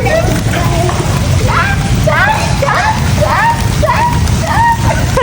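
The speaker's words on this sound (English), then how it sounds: "How can we not enjoy the rain in India?" Steady rain falls during the Indian monsoon in a heavy, continuous hiss, with faint chirps or distant voices rising over it.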